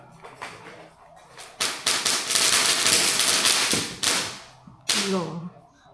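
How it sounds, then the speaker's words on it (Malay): Sharp firecracker bursts crackle outdoors in a dense volley, a few scattered pops first, then a long loud rattling stretch with another burst near the end. "ada yang main mercun pula"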